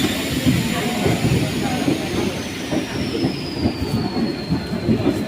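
A train runs along the line near Arrah junction in Bihar, a steady loud rumble and clatter of wheels on rails with a faint high squeal drifting through, continuous throughout.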